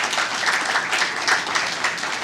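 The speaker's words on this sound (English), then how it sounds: "Let's thank them with a round of applause" Applause for panel speakers at an entrepreneurship week sustainability-in-business event, a lively round of clapping from a seated audience, dense and fairly loud with slight swells, lasting a couple of seconds with no talking over it.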